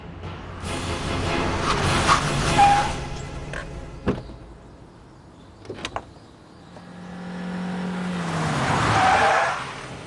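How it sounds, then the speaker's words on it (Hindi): A car speeding in an animated Iron Man cartoon episode: rushing engine whooshes and passes, a couple of sharp knocks, then a skidding screech that slides down in pitch before a final roar. "वैसे आपने अपनी गाड़ी स्पीड लिमिट से तेज भगाई।"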